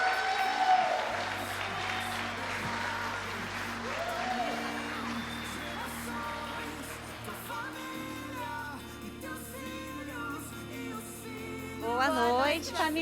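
A church congregation applauds, a dense wash of clapping that swells near the start and again at the end, with sustained keyboard music and faint voices underneath.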